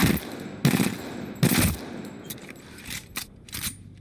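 Automatic gunfire in Apex Legends rattles out in several loud, close bursts, separated by short gaps and followed by lighter scattered shots.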